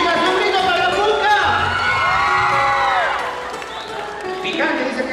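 A crowd of girls cheers and screams for a band member at a live concert, with loud shrill whoops and clapping that swell, then ease and rise again.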